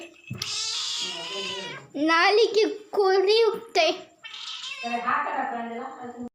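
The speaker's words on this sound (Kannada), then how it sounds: "ನಾವೀಗ ನಮ್ಮ ಬೆಕ್ಕು ನಿದ್ರೆಯಿಂದ ಎದ್ದಿದ್ದೆ ನಾವೀಗ ಊಟ ಹಾಕಿದ್ದೇವೆ" A pet cat, just awake at feeding time, meows loudly and repeatedly in close, drawn-out cries, mixed with a person talking nearby.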